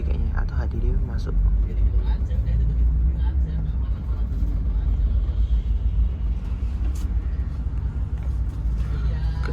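A double-decker intercity bus pulls into a toll-road rest area, its deep engine rumble steady and close throughout, with a person talking over it.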